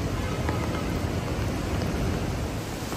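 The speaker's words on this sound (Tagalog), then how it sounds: "bumuhos na naman yung napakalakas na ulan" Heavy evening rain pours by the Marikina River under a bridge near the stairs, a dense, steady, loud roar of falling water with no break and no voices.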